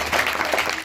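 A short burst of clapping at a Hindi honour ceremony for an international boxing player, with steady dense applause from a crowd that holds level and fades at the end.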